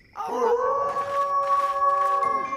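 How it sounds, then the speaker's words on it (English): A cartoon wolf lets out a long, sustained howl that rises, holds steady and then tapers off, loud and close with no talking over it. "Sounds like another wolf!"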